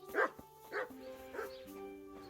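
A dog in the video game Kingdom Come: Deliverance gives three or four quiet barks spaced across a couple of seconds, with a faint steady tone underneath.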